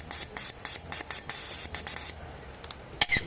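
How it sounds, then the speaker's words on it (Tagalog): A Toyota Corolla fuel injector, the number 4 injector, sprays cleaning fluid during a bench test in a series of sharp, close hissing bursts, some short and some longer, with a few faint spurts at the end. "So nag-spray siya, ibig sabihin buo pa to."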